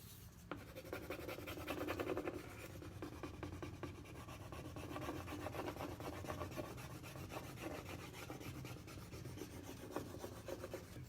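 A Prima transfer is rubbed onto a wooden chalkboard sign, giving a steady, close, dry scratching and rasping that continues for about eleven seconds with small bursts of pressure and no voices.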